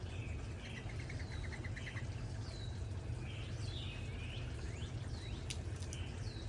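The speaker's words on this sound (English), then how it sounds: "Do you hear the bird song?" Several birds chirp and trill outdoors on a sunny day, faint and somewhat distant, short repeated calls scattered over a steady low background hum.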